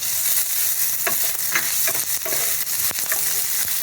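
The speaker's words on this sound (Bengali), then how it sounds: "পেঁয়াজ কুচানোগুলো দিয়ে দিলাম, দিয়ে একটু ভালো করে ভেজে নেবেন সব।" Chopped onion, ginger and garlic fry in a pan for sabu poha, giving a loud continuous sizzle with a few scraping stirs of a spoon near at hand.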